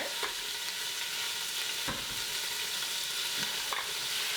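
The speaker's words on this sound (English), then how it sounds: "The sizzle, my favorite sound." Ground beef sizzles steadily in a hot pot, a constant bright hiss with occasional soft scrapes of a wooden spoon stirring.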